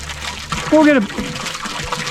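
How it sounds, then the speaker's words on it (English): Water flows steadily out of a garden irrigation line that has just been unclogged, a close, continuous rush while a person speaks over it. "Once that water comes out, then we'll have a little bit better flow."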